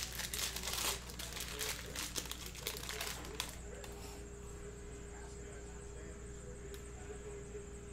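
Crinkling cellophane wrapper of a 2020 Panini Prizm football one-pack cello card pack being torn and ripped open, a dense burst of close crackling for about the first few seconds, then quieter handling noise.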